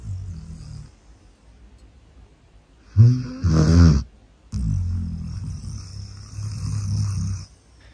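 A game character snoring in Kingdom Come: Deliverance, heard as a couple of low, rasping snore pulses, the second one louder and longer, over a quiet game backdrop.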